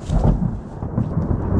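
Low, rolling thunder rumbles steadily right after a lightning flash, with a soft hiss that could be rain, loud and continuous with no voices.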